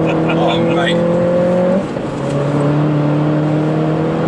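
A Mini races on a track, its loud engine note climbing through the revs, dipping briefly at a gear change and then pulling hard again, while someone speaks over it.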